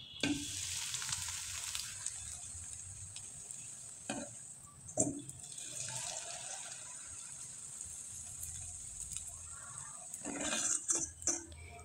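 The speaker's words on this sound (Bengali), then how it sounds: "তাই হালকা করে কিন্তু আমি আপনাদের ভেজে একটু দেখিয়ে দিচ্ছি" Wheat-flour jali pitha fry in a little oil with a steady soft sizzle, broken by a few sharp scrapes and clatters of a utensil in the pan, all close and without voices.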